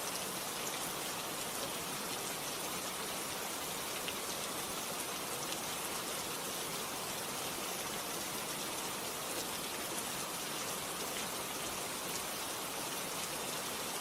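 Steady, dense rainfall with an even hiss of drops hitting surfaces, continuous and unchanging throughout, with no voices.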